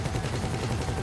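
Gunfire during a Valkyrie helicopter raid in GTA 5, a dense low rumble of rapid automatic shots that keeps going without a break through the whole moment.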